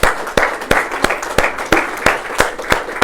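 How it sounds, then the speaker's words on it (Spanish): Rhythmic hand clapping from a church congregation applauding during a Spanish-language sermon, with about nine sharp, evenly spaced claps in unison, loud and close, and no talk over it. "Dale un aplauso al Señor."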